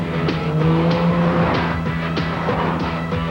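A car engine revs hard and climbs in pitch, loud and close, with rapid tonal sweeps as it accelerates.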